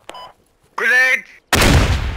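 A fragmentation grenade bursts in the Squad military shooter: a sudden loud broadband blast with a rumbling tail, following a short beep and a brief shouted voice.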